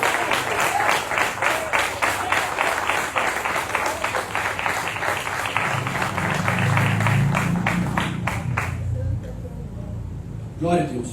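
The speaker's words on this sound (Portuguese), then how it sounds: "Dá uma linda salva de palmas para o Senhor Jesus." Worshippers in a church congregation give a rhythmic round of applause in unison, sharp regular claps that carry on under a voice before tapering off near the end.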